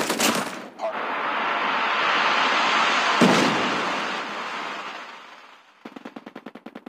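Gunfire in the mobile shooter Call of Duty Mobile: a few sharp shots, then a long roaring sustained noise, and a rapid evenly spaced automatic burst at the end, loud and close.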